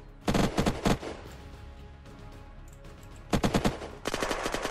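Gunfire in the survival game Unturned during a bank heist: two close, loud bursts of rapid automatic fire, one early and one near the end, with a quieter stretch between them.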